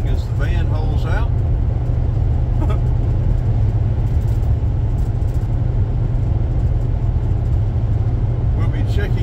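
A van driving east on U.S. Highway 278 in Georgia gives a steady, loud road rumble and engine drone, with a voice speaking over it.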